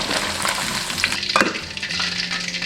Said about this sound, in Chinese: 一定要全程大火炸。